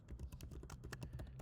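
Rapid keystrokes on a computer keyboard while coding JavaScript, a steady stream of quiet, close clicks with no talk.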